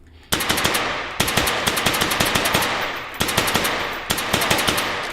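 In the VR game H3VR, a machine gun fires at Sosig sausage-man enemies in loud, rapid bursts of closely spaced shots, four bursts separated by brief pauses.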